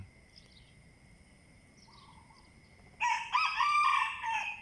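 Quiet early-morning ambience at 5 a.m. with a faint distant bird call, then a loud, close rooster crow bursts in for the last second and a half.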